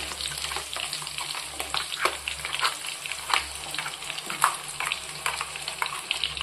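Masala paste for an anchovy fish curry fries in hot oil, a steady close sizzle with crackling pops and occasional stirring scrapes, continuous and fairly quiet.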